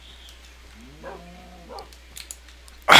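A tamed dog in Minecraft gives a few soft, brief barks and whimpers at a low level, followed near the end by a sudden loud burst of other game noise.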